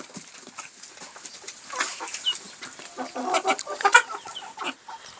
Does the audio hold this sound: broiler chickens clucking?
yes